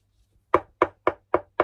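Five sharp knocks on a lacquered wooden Japanese tray, evenly spaced and close, with a slightly plasticky, dry, hollow tone and no talking.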